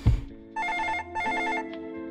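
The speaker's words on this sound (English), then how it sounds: "Hang on, I can't answer the phone right now, I'm busy!" In the video game Hell Pie, a telephone rings in two loud electronic trill bursts after a low thud, with a short gap between rings and no talk.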